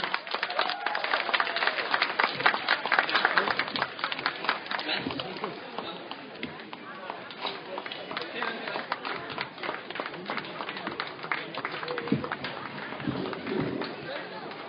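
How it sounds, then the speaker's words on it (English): Scattered clapping from the audience at an autism charity walk and fair honours an auction winner, uneven crisp claps over crowd noise and talking, louder at first and thinning out later. "Can we give him a big applause"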